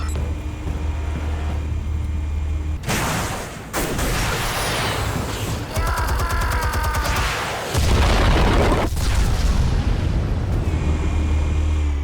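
Explosives detonating in the video game Batman: A Telltale Game, a sequence of heavy booming blasts with rumbling low end, debris crackle and a whooshing swell, loud and close over several seconds.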